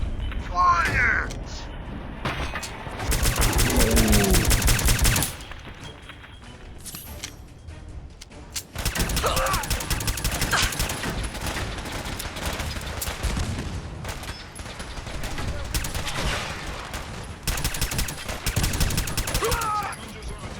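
Gunfire in the video game Fallout 4 as scavengers try to board: rattling bursts and volleys of shots come in waves, with spoken voices mixed among them.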